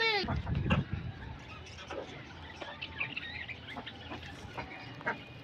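A hungry pet duck calls at home, a few quick bursts of quacking right at the start, followed by faint chirps and rustling over a low background murmur.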